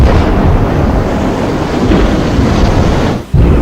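Loud, steady roar of tsunami waves crashing in the sea, a dense wall of churning water and wind-like rush that continues almost unbroken, with a brief dip near the end before it resumes.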